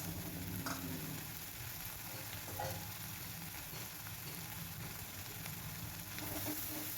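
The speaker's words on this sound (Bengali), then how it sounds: "জিরে আদা বাটাটা দিয়ে অনেকক্ষণ একটু ভালোভাবে কষে নেব" Cumin and ginger paste sizzles and fries steadily in a pan for cabbage curry, a soft continuous crackle with occasional stirring scrapes, heard alone at low volume.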